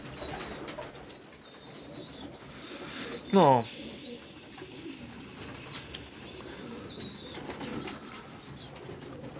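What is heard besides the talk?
pigeons cooing in a pigeon loft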